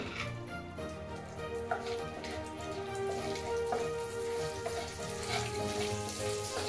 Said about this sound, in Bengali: বাটার দিয়ে দিয়েছি। এবারে গোটা গরম মশলা একটু ফোড়নে দেবো।